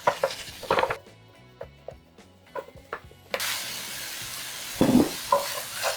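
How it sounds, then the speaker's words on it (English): Ground pork is mashed with a spatula in a hot pan, giving a steady sizzle broken by scraping and stirring clatter, with quieter stretches between bursts of activity. "in the same pan, we're going to add 1 pound of ground pork and mash it up with a spatula"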